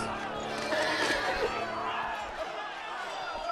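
A horse whinnies in the Game of Thrones video game, a short, fairly faint neigh with some hoof clopping and background chatter, under ongoing voices.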